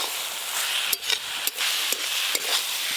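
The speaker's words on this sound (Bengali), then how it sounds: "এবার এইভাবে নাড়তে নাড়তেই শাক ভাজা হয়ে যাবে।" Water spinach with poppy seeds stir-fried in a pan, giving a steady bright sizzle broken by several sharp scraping knocks of the spatula, close and with no talk.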